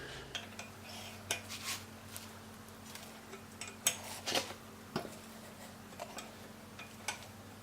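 A 7/16 open-end wrench clinks faintly and intermittently against metal while a Jeep JK brake line is removed during a one-ton axle swap, scattered light taps over a low steady hum.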